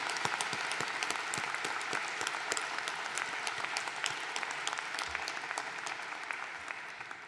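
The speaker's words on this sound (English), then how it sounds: "let's give the graduates a big round of applause" An audience applauds graduates at a University of San Francisco commencement ceremony, dense sustained clapping from a large crowd that carries on steadily and tapers slightly toward the end.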